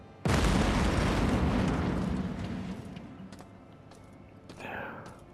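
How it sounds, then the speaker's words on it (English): Explosives detonate in the 2024 System Shock game. A sharp, loud blast is followed by a long rumbling roar that fades over several seconds, with a faint tonal whine near the end. "Observe the fireworks."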